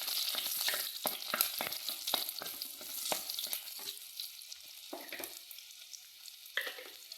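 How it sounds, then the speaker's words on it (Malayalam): Mustard seeds and onion frying in a pan for jackfruit seed and moringa leaf thoran, with lively sizzling and crackling broken by sharp scraping taps of stirring, quieter toward the end. "ഉള്ളി ഇട്ട് കൊടുത്ത് ഇളക്കി കൊടുക്കാം."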